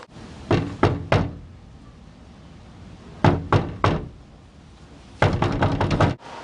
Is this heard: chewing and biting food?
no